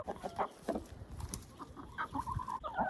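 Chickens and a rooster cluck in a farmyard coop area while the hens roam and graze on grass, with short overlapping calls at close range and no talking.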